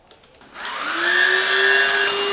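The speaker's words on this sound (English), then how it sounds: "This versatile and powerful vacuum is perfect for keeping your home spotless" A Grundig VCP 4330 L 2-in-1 cordless stick vacuum cleaner switches on and spins up to a steady, loud, high-pitched whine that holds evenly, close and alone.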